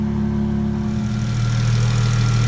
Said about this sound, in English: Got the car running. I'm gonna let it run for about